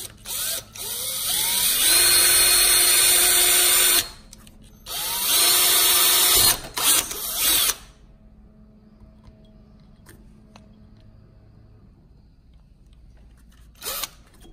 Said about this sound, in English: now I've got an 1/8 inch drill bit. Make the holes bigger.